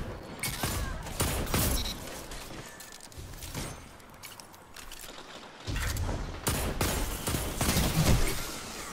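A video game energy weapon fires in rapid, loud bursts with some quieter gaps between them, mixed with other game effects.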